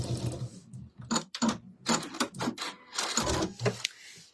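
Sewing machine stitching across fabric for a carry holder, heard in several short bursts of mechanical whirring separated by pauses, close and moderately loud.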